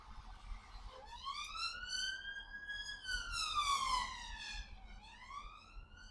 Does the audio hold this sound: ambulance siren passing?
yes